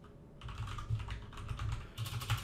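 Quick keystrokes clatter on a computer keyboard in short bursts of close, light clicks, and no one speaks.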